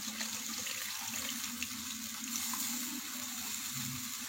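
Tamarind water, made by soaking a lemon-sized lump of tamarind, is poured into a pot for a green mango and fish curry, giving a quiet, steady liquid stream that runs for several seconds.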